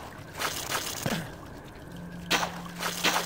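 Dripping water in a poisonous swamp in the video game Mask of Eternity, scattered wet drips and splashes over a low hum, several soft watery bursts spread across the moment.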